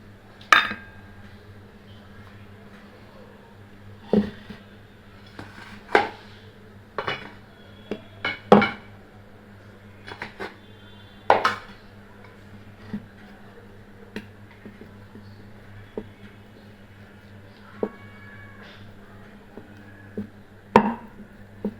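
Oiled luchi dough rolled out with a rolling pin on a board, giving sparse, sharp taps and knocks at irregular intervals over a low steady hum, with no voices.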